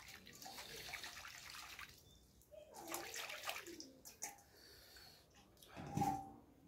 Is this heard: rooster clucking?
no